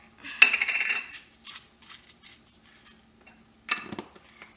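Eggs cracked with pepper are beaten in a bowl, giving a quick burst of clinking utensil-on-dish scraping and tapping, then quieter scattered clicks and a final short run of whisking taps, close and alone.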